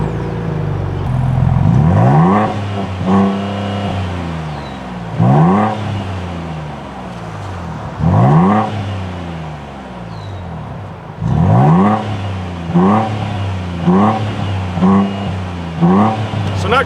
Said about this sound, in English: it is an Ecoboost V6, not a big V8, but sounds pretty good when you're getting on it under load